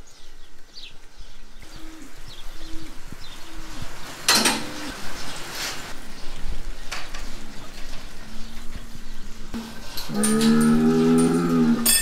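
Cattle moo repeatedly in a barn with Jersey bulls and cows kept nearby, low calls rising and falling throughout, with a louder, closer bellow near the end over a steady background of shuffling and rain.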